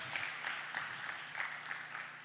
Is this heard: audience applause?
yes